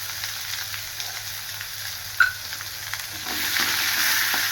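Small onions sizzle in hot oil with garlic, dried chilli and curry leaves, a steady crackling fry with a brief sharp pop midway and the sizzle swelling louder toward the end.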